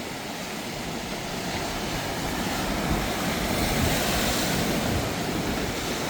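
Surf pounds a rocky beach in Portugal as a dense, unbroken roar, loud and close, with wind rushing over the microphone throughout.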